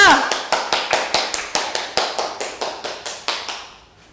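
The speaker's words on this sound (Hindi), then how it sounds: "जोरदार तालियों के साथ स्वागत कीजिए" Rhythmic unison clapping welcoming a performer at an adult theatre workshop, about fifteen sharp, evenly spaced claps that slow slightly and fade out at the end.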